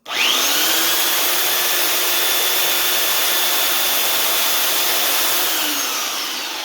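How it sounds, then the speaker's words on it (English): A belt sander fitted with an 80-grit belt runs against a large wooden cross section, a loud steady abrasive whine that starts abruptly, holds evenly and slightly fades near the end, with no voices. "All right, we got the 80 belt on."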